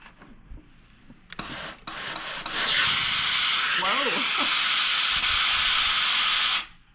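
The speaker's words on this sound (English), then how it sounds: "My iron likes to let out a little steam every once in a while." A steam iron pressing a quilt seam lets out a strong, steady hiss of steam that rises suddenly and holds for about four seconds before cutting off, close and loud, with a brief faint voice in the middle.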